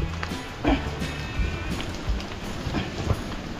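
Rain falls in a steady, broadband hiss outdoors while a group carries a tank downhill, with dull thuds and footsteps scattered through it and no clear speech.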